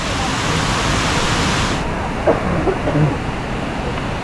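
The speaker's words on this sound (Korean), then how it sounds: "여기 계속 물 흐르는 곳에 계속 지나다니니까 너무 좋다." Continuous broadband rush of a flowing river in Luang Prabang, Laos, fairly loud and close, softening after a couple of seconds with a few faint bumps over the steady flow.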